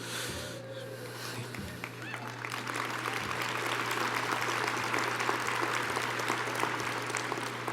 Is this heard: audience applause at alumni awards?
yes